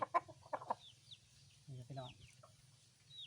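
Burmese-Thai crossbreed chickens cluck in short, close bursts, a few scattered calls with gaps between them, with faint chirping birds in the background.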